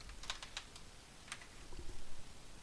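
Keys clatter on a computer keyboard in a few quick, light bursts of typing while a search term is entered in Unreal Engine 5, fairly faint over a low background hum.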